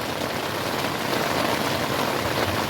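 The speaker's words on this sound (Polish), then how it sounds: "deszczyk napiernicza jak trzeba" Heavy rain pounds steadily on a camping tent late at night, a dense, unbroken roar of drops hitting the fabric close overhead, with no voices.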